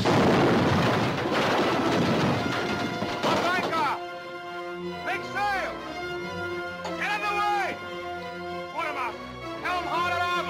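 A ship's cannon fires in a 1950 pirate adventure, a loud broadband blast with rumbling decay filling the first few seconds, followed by an orchestral score with rising string and brass phrases.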